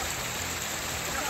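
Heavy rain in Guwahati, Assam, during record rainfall, a steady, dense broadband hiss of downpour with no gaps, loud and close throughout.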